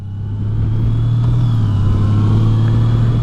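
Engine of a 2018 Honda Goldwing Tour motorcycle with DCT transmission, a steady loud low drone that holds near and constant while the bike downshifts under trail braking on a road, with no talking.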